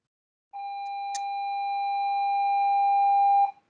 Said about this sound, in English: That's our passing period bell.